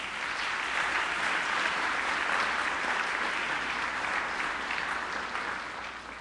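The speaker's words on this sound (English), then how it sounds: "Let's give one more round of applause for Doug, please." A crowd at a school staff event applauds steadily, dense clapping that holds at an even level for several seconds before tapering slightly at the end.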